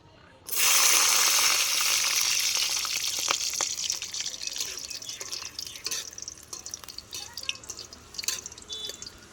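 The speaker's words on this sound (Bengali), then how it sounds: "রসুন ভাজা হয়ে গেছে" Chopped garlic dropped into hot mustard oil, a sudden loud sizzle that bursts in at once and then settles into a gradually fading crackle with scattered pops.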